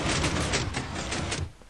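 A Minecraft regular non-sticky piston door swinging open in the video game, a short rapid burst of mechanical whooshing pulses lasting under two seconds, close and loud with no voice over it.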